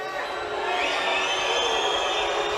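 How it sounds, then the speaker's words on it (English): Arena crowd at a men's team sabre fencing final in Budapest, Korea against Hungary, booing and shouting in a dense, sustained roar of many voices, loud and unbroken. "The crowd's booing, but Szilagyi's asked them to stop."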